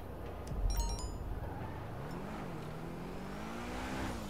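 The engine of an Obey 10F Widebody in GTA 5 hums low at first, then rises and falls in pitch as it revs, a steady, fairly quiet drone with a brief mechanical clatter near the start.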